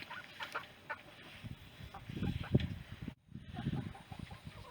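Several chickens cluck and squawk nearby in a quiet, low-level outdoor scene, with soft murmuring and brief scuffling.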